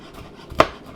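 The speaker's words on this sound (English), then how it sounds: "So I'm going to chop the garlic." A single knife chop on garlic hits the cutting board once, a sharp close knock rising from a quiet background.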